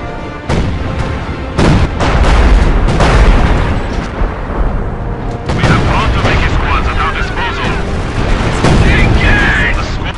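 Battle in Company of Heroes 2: heavy artillery booms and bursts of gunfire crash loudly and repeatedly, with shouted unit voice lines mixed in over the din.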